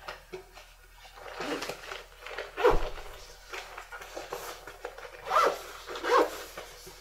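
The zipper on an Arva first-aid kit pocket is pulled in several quick rasping strokes, close up and fairly loud, with short pauses between pulls.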